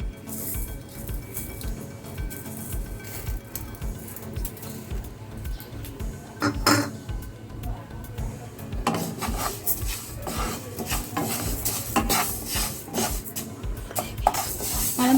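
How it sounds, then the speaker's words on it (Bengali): Moong dal dry-roasting in a pan gives continuous scraping and stirring with metallic clinks of spoon against pan, growing busier and louder in the second half, with no talking. "আমি এখানে ডালটা প্রথমে দিয়ে দেব ভেজে নেওয়ার জন্য"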